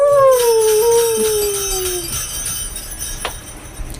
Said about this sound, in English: you could hear the sound of a dog barking and scrabbling about